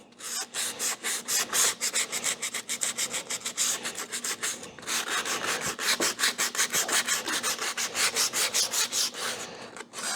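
Rhythmic back-and-forth sanding of a small cherry wood piece for a cremation urn, steady scratchy strokes close up and fairly loud, continuing without pause throughout.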